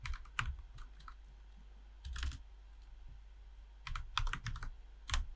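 Someone types a short SDK version command on a computer keyboard. Light, quiet key clicks come in a few brief clusters over a low steady hum.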